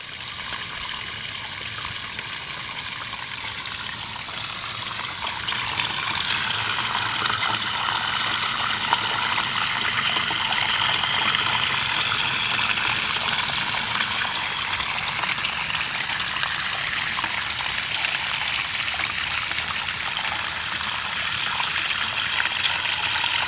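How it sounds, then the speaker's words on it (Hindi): Irrigation water gushes steadily from a pipe into a rice paddy, a continuous close rushing and splashing flow that grows slightly louder after the first few seconds, with no voices. "पानी देखिए इधर पाइप से आ रहा है, यह पानी सिंचाई हो रहा है"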